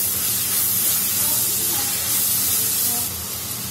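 Tomatoes frying in a pan, giving a steady, close, broadband sizzle and hiss that runs evenly throughout and drops slightly near the end.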